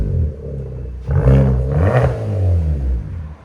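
A 2020 Hyundai Elantra with a turbo resonator and muffler delete revs close by, a loud exhaust rise and fall in two quick bursts over a deep idle rumble.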